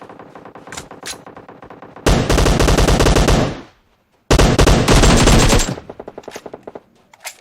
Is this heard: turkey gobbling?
no